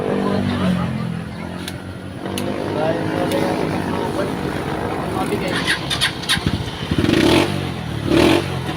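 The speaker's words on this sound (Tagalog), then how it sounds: "pa pakinggan natin yung tunog ng kanyang makina" Skygo motorcycle engine with a primary-type fault runs roughly, sputtering and popping irregularly with uneven bursts, while someone talks over it.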